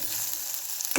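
Tempering for buttermilk kadhi sizzles in a pan on a full flame, a steady crackling hiss that ends in a sharp, louder burst as buttermilk hits the hot oil.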